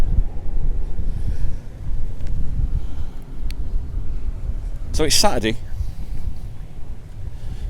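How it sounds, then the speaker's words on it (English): Strong wind buffets the microphone outdoors with a constant low roar and gusts, while a person speaks briefly partway through. "Very windy down here today."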